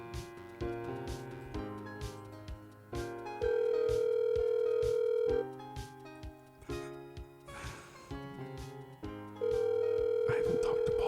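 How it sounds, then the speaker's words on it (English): On an outgoing phone call, a ringback tone sounds in two long, steady beeps, separated by a pause, under louder music with plucked, rhythmic notes. "I haven't talked to Paul on the phone in like 15 years."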